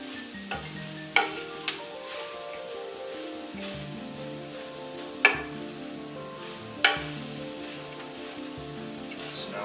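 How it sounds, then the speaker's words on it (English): Party chili with jalapeños sizzling in a hot pan as it is stirred, a steady close frying hiss with a few sharp utensil scrapes and knocks against the pan. "Things are cooking kind of fast now, so just want to keep stirring this around."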